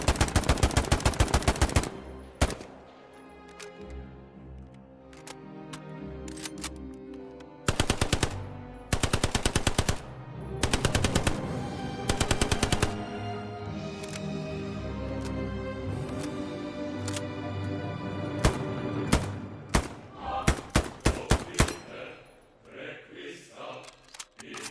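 Rapid bursts of automatic STG-44 and MP-40 fire alternate with sharper single M1 Garand shots in the World War II game Hell Let Loose, loud and close, separated by brief pauses.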